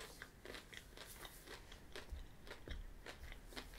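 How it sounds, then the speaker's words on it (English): Close chewing of Cadbury Mini Snow Balls, a sugar-shelled chocolate sweet, giving a quiet series of quick crisp crunches in an irregular rhythm, soft and near with no talking. "I think there's a nice crunch on the sugar shell"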